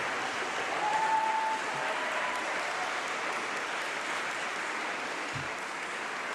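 Graduates at a winter graduation ceremony applaud their families and teachers; the clapping is soft and even, spread across a large hall and heard at a distance, holding steady throughout.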